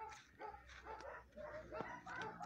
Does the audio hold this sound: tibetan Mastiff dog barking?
yes